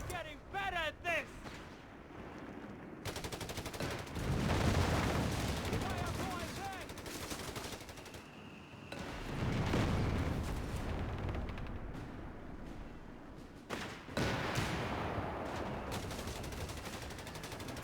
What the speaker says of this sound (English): Alright, this mortar.